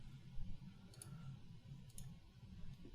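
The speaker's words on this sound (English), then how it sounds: "right mouse click" Two soft, sharp computer mouse right-clicks about a second apart, faint over a low background hum.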